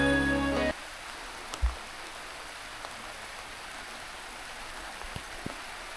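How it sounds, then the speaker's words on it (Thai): Rain falls over a hill village set among rice fields in the mountains, a steady soft hiss with occasional faint drops and taps, after a brief tonal sound at the start. "ตอนนี้ฝนตกอยู่นี่ก็มีอีก"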